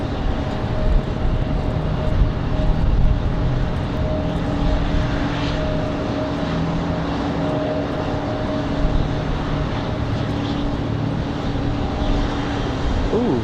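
An airliner on the Denver flight comes in to land at Raleigh-Durham airport, its engines droning with layered steady tones and a broad rumble that swells slightly and stays continuous.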